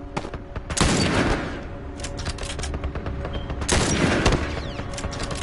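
Rapid bursts of gunfire from The Last of Us Part II crackle in dense volleys, with a heavy opening barrage, scattered sharp shots and a second flurry, all fairly loud and continuous.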